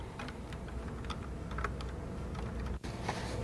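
Steady key clatter from someone typing a program into a Tandy Color Computer keyboard, a continuous run of close, quick keystrokes with a brief pause near the end.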